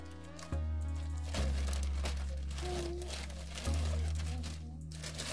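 A plastic bag stuffed with a hat crinkles and rustles up close as it is handled and opened, with irregular crackles over a low hum and a voice speaking.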